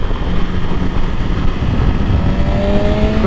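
A 2024 BMW S1000RR superbike engine pulls hard under acceleration, its rising tone climbing steadily through a constant roar of wind and road noise, loud and close for the whole stretch with no talking.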